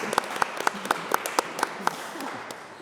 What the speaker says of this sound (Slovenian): za en aplavz